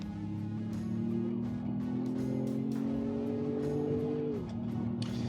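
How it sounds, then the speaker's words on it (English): A 2025 Ford Maverick Lobo engine revs steadily in manual mode on a track, its drone rising in pitch through a gear before dropping sharply at a shift, heard close and continuous. "We're gonna do some manual shifting in this beauty."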